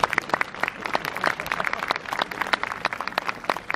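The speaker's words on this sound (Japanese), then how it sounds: "拍手をもってご声援くださいませ。" Crowd applause for the year men at a Setsubun bean-throwing ceremony at Osaka Naritasan temple, a dense steady patter of many hands clapping throughout.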